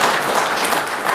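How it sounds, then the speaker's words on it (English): Dense audience applause fills a short moment at an evening talk event, a steady wash of many hands clapping with no voices over it. "Give them a round of applause."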